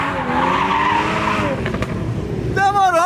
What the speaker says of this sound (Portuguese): Ó o Porsche ali, Thiago.